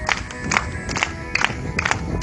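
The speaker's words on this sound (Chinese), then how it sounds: "好拍手。" Children doing a group morning exercise routine at a camp clap their hands in a steady rhythm, about five sharp claps spread evenly over a couple of seconds.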